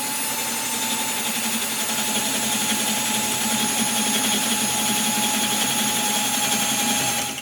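ALTOCRAFT 20V MAX cordless drill/driver running continuously at steady speed, a loud, even motor whine with gear buzz held for several seconds before cutting off at the end.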